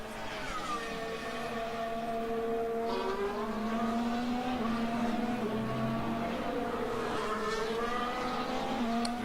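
Formula 1 car at the 2022 Bahrain Grand Prix qualifying, its high-pitched engine whine rising through the gears as it accelerates, steady and prominent with no commentary over it.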